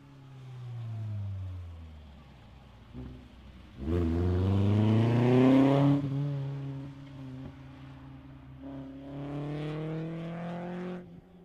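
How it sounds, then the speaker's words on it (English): A rally car on the Ridge Motorsports Park super special stage accelerates past, its engine rising and falling through gear changes, loud near pass then fading, with a second surge of revving toward the end; no talk. "That's car number 200, Jason Mume and Christopher Ellinger."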